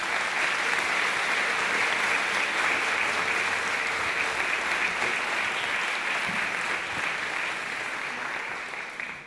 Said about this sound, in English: I assume that applause is for me and Bob.